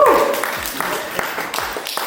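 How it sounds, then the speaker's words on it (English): Audience applause for a real estate speaker, scattered separate claps at an irregular rhythm, moderately loud, with a voice cheering over the first moment. "He deserves a round of applause for that"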